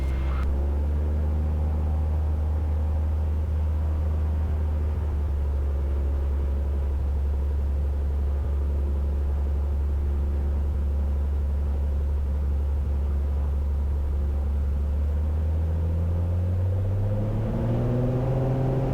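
Single-engine light airplane on its takeoff run from runway 18 at Naper, engine held at full power around 2600 RPM with a steady, loud, droning roar and a rising pitch near the end as it lifts off.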